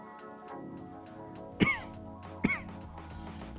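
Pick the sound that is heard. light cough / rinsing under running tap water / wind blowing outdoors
light cough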